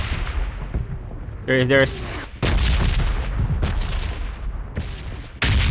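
Loud gunfire cracks and booms ring out during Call of Duty or PUBG Mobile gameplay in several sharp bursts separated by short gaps, while a player speaks briefly.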